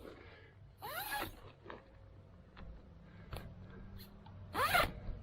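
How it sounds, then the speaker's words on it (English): A zipper on the window of a Slumberjack 9' x 16' cabin tent rasps in a few quick separate pulls, the first and last strongest, close and crisp against a quiet background. "that would zip down right there for a big window"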